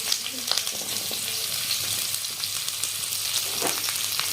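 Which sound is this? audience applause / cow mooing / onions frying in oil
onions frying in oil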